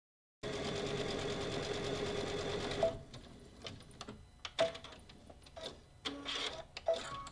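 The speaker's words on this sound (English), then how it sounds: "I'm going to sew along both sides of my material, but leaving the ends open" A sewing machine stitches lining fabric for an Easter basket, running in a steady loud whirring burst for a few seconds before stopping, followed by quieter clicks and fabric handling nearby.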